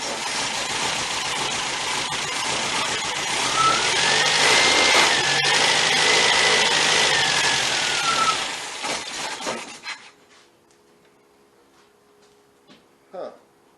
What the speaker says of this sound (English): got this weird messy idle.